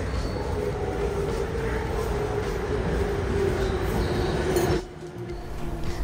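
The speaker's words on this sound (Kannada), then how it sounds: "ಕರೆಕ್ಟ್ ಟೈಮ್ಗೆ ಬಂದಿದೆ ನೋಡಿ ಟ್ರೈನು." A train pulls into track 2 at Mitaka station in Japan with a steady, close rumble and a high whine, which drop off abruptly near the end as it stops.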